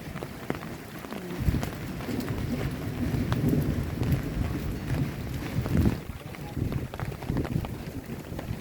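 Low thunder rumbles rolling through steady rainfall, with raindrops pattering on surfaces close by and a voice talking intermittently over the storm.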